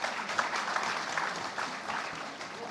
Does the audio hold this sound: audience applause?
yes